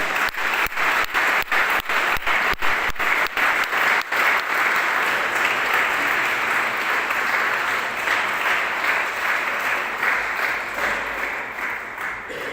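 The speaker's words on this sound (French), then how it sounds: "Nous l'acclamons, mes chers amis. Nous l'acclamons." Congregation in a church applauding together, sustained dense clapping that starts with a few sharp claps and holds steady and loud for about twelve seconds, fading slightly at the end.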